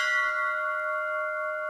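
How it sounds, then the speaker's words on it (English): A temple bell at the entrance of a Hindu temple is struck once, its clear metallic tone ringing out and slowly decaying as a sustained shimmer, alone and fairly close. "it's customary upon entering the temple area to ring the bell"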